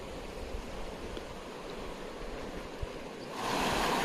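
A jungle river runs in a steady broadband rush, fairly faint and even, swelling louder near the end as the current's roar comes closer.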